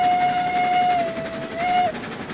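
A steam locomotive whistle in RailRoads Online on the Mesa Plains map gives one long steady blast of nearly two seconds, dipping briefly in pitch midway, loud and alone over a low rumbling background.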